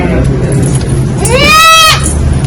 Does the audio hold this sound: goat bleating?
yes